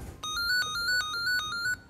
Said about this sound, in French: le téléphone n'arrête pas de sonner